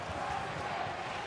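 A rugby league crowd at a Cronulla versus North Sydney Bears match roars and cheers in a dense, continuous wash of voices, heard faintly for just over a second.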